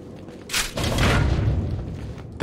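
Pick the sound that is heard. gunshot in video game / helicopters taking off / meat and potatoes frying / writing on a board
gunshot in video game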